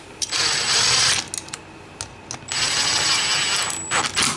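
Bolts on a Yamaha Banshee clutch basket being run down and snugged with a 5mm tool: two long, close, loud bursts of rapid mechanical ratcheting with a thin whine, separated by a few short clicks, and no talking.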